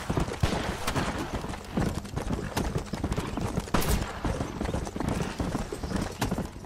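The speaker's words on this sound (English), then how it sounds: "Did you see that horse still moving?" Horse hooves clip-clop in the Red Dead Redemption video game, a rapid, continuous galloping patter up close with scattered gunshot-like cracks and no talking.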